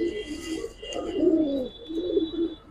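A male pigeon, a silver or coloured Giribaz, coos close by in a few soft, throaty rolling phrases with brief pauses between them, over a faint high background tone.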